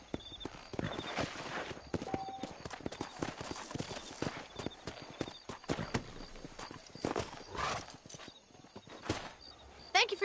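Horse hooves clip-clopping in the video game Red Dead Redemption, an irregular run of close, sharp hoof strikes with a whinny and snorts, over faint background sound.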